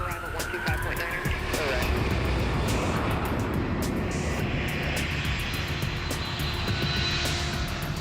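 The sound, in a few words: C-5 military cargo plane departing, jet engines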